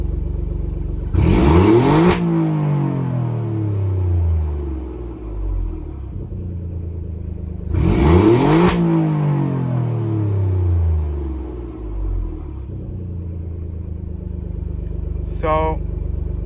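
Alfa Romeo Giulia Quadrifoglio in race mode, engine and exhaust revved twice from idle, each a sharp roaring climb that falls away slowly, close and loud over a low idle rumble, with a brief chirp near the end.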